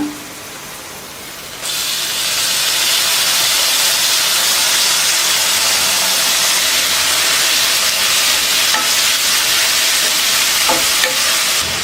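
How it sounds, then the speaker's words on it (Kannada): Onions and tomato fry in a pan for a tomato gojju, starting with a quiet stir before a loud, steady sizzle and hiss erupts and continues, with occasional scraping of a spoon, no talking. "ಈರುಳ್ಳಿನ ಚೆನ್ನಾಗಿ ಫ್ರೈ ಮಾಡ್ಕೊಳ್ಳಿ."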